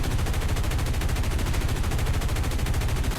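Machine gun fire from an A-36 Apache plane in War Thunder: a continuous rapid burst of gunshots, loud and evenly rhythmic, heard alone with no talk.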